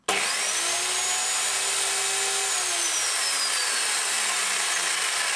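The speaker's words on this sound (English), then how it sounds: "it's a great little saw. It even has quite a kick for a" A small electric chainsaw starts abruptly and runs at a steady, loud, high-pitched whine for several seconds with no one talking.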